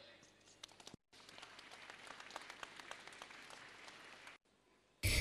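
An audience at a religious prize-giving ceremony claps steadily for several seconds, a dense patter of many hands, broken by brief gaps and ending in a louder burst.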